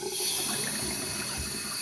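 Steady rush of water running from a cold water tap, continuous and fairly close, with no voices.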